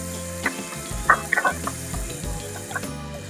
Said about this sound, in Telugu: జీడిపప్పులోనే మనం పచ్చిమిర్చి కొన్ని అయితే యాడ్ చేసుకుందాం యాడ్ చేసుకుని ఇవి గోల్డెన్ కలర్లోకి వచ్చే అంతవరకు ఫ్రై చేయాలి